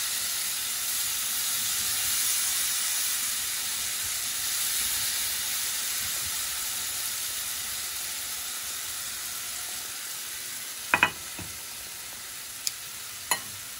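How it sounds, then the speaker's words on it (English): Onions sizzle steadily in a hot pan with olive oil, a continuous close frying hiss with a few faint clinks of utensils near the end and no talking. "You've got to almost hear that sound when you put your onions in, so they can start to caramelize right away."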